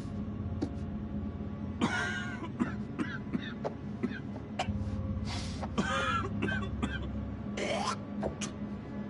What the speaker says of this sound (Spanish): Esa tos pinta mal.